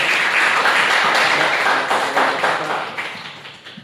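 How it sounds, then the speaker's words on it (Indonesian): Students in a civic education class applaud the first speaker with dense, sustained clapping from a full room. The applause stays loud and steady, then tapers off toward the end. "Aplaus buat narasumber 1"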